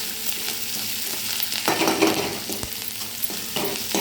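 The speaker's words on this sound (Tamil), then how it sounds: "இதை தாளிச்சிட்டு கருவேப்பிலை, வெங்காயம் போட்டுக்கிறோம்." Curry leaves and onion frying in hot oil for a lentil-free sambar, a crackling sizzle with bursts of stirring scrapes in the pan, close and fairly loud.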